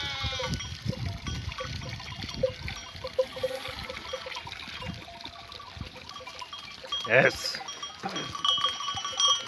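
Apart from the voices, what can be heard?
sheep bleating while drinking from a fountain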